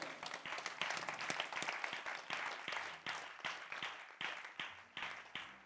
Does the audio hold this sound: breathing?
no